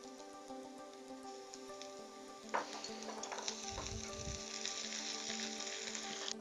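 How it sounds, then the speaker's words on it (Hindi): Ginger garlic paste goes into golden brown onions in a hot pan, setting off a steady close sizzle and spatter with a brief stirring thump partway through. "ये देखिए नाज़रीन, गोल्डन ब्राउन हो गया प्याज और इसमें हम डालेंगे अदरक और लहसुन का पेस्ट।"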